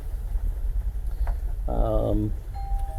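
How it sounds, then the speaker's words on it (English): A doorbell chimes once, a brief two-tone ring over outdoor rumble and traffic noise. "Doorbell is working."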